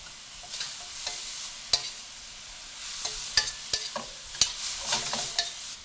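Vegetables stir-fry in a hot pan with tamari and rice wine vinegar, giving a steady loud sizzle broken by repeated sharp scrapes and clacks of stirring, with no voices.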